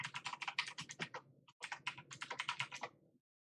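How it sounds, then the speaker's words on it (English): Rapid typing on a computer keyboard, a dense run of close clacking keystrokes in two bursts with a short pause between, then stopping, no talk. "Yeah, I'll type it."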